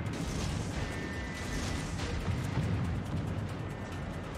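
Torpedoes launched from a ship in World of Warships, heard as a steady, dense rumble of naval game noise with muffled booming bursts and a faint whistle, continuous throughout.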